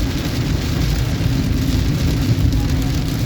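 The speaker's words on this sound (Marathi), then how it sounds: "बघा किती जोरात पाऊस पडतोय ते" A steady, dense roar of heavy rain on the Mumbai-Goa highway, mixed with continuous road and engine rumble, unbroken and loud throughout.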